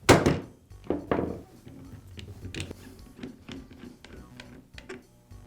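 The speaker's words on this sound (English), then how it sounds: "Then I'll use a rubber mallet to quickly strike the Allen wrench, and the quick momentum will break the chuck free from the thread." A rubber mallet strikes an Allen wrench set in a DeWalt drill chuck to break the chuck free of its thread. It gives a few dull, close thunks, the first the loudest, followed by lighter knocks and handling clicks.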